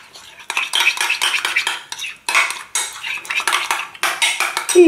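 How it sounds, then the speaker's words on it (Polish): A utensil stirs a chicken marinade in a bowl, meant for oven-baked chicken thighs, giving a close, steady run of scraping clinks and clatters against the bowl in uneven bursts, with no talking. "I należy to dokładnie wymieszać."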